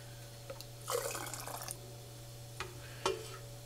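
Homemade chicken stock splashes and trickles into canning jars in short pours, with a couple of bright liquid bursts over a steady low electrical hum.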